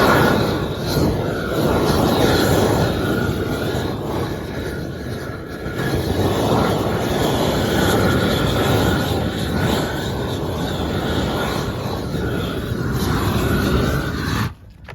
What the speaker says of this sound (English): what you just saw is the petroleum being blowtorched and heated up